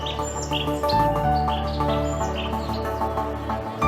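Parrots chirp and tweet in a dense jungle as a storybook sound effect, with brief high calls scattered across the clip over a steady bed of music.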